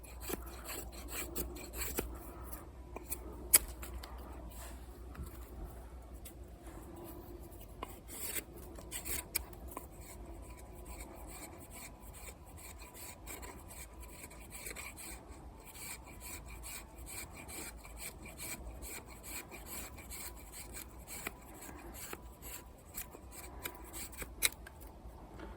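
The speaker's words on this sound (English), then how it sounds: "You can also try to make some finer pieces" Condor Terrasaur Scandi knife in 1095 steel shaving fine curls from wood for a featherstick, a faint steady scraping and rasping close by, repeated strokes with no talking.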